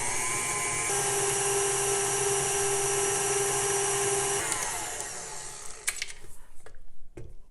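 An electric mixer whirs steadily while blending vanilla, milk, butter and sugar into cookie dough, then winds down and stops, leaving a few faint clicks and knocks.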